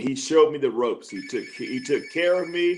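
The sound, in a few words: telephone ringing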